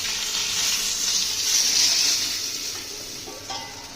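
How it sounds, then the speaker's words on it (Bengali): Rohu fish heads and tails frying in hot oil, a loud dense hissing sizzle close up that eases slightly toward the end, with a brief stir near the close. "মাথা আর লেজাগুলো আছে, ওগুলো ভেজে নিই।"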